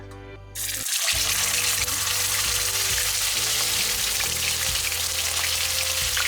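Pork steak dropped into hot oil, a sudden loud sizzle that bursts in and then holds as a steady, dense crackling fry close to the pan.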